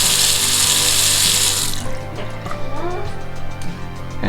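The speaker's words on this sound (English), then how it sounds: "Turn the water on." Water gushes from a Delta faucet with a newly replaced cartridge, a loud hissing rush at first that settles into softer running and splashing into the sink below.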